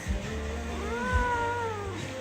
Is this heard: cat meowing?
yes